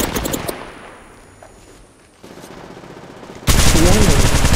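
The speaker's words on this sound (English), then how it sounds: "I'm taking fire." Gunfire in the shooter Apex Legends Mobile: a loud burst of rapid shots at the start, a quieter lull with faint game sounds, then a sudden dense, loud barrage of automatic fire at the end.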